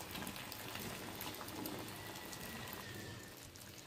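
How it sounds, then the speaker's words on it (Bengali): Beaten egg with onion and chili sizzles in a pan, a steady, dense crackle and hiss throughout with no talk over it. "আমি হচ্ছে এখন ডিম ভেজে নেব।"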